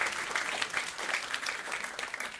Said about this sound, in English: Please give Sarah Farley a round of applause.